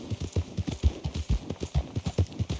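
Horse hooves gallop across cliffs in Red Dead Redemption 2, a steady, rapid rhythm of dull thuds, close and fairly loud, with no talk over them.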